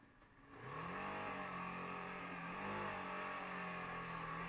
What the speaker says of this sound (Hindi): संडे के बाद मैं आज स्टार्ट कर रहा हूँ बाइक को अपनी और पहले ही सेल्फ में ये स्टार्ट हो चुकी है